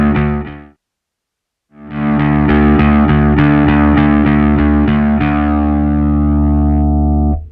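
A Kaamos guitar distortion pedal with its drive knob turned up: a short distorted guitar chord, a brief silence, then a loud sustained fuzzy chord that is restruck rhythmically several times and rings out.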